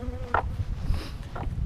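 Honey bees buzz around beehives during a late-season hive inspection, with a few individual bees droning close past amid a continuous low hum.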